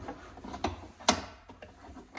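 A hand tool, likely a ratchet, tightens the bolts on a Polaris General taillight: a few sharp clicking and clacking transients at close range with faint mechanical rattles between them and no talking.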